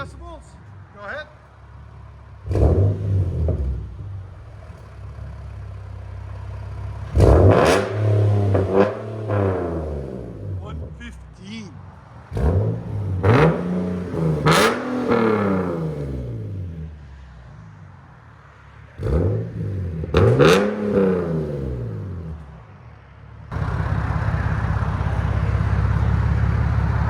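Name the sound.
2010 Nissan 370z 3.7L V6 with Vibrant resonators exhaust revving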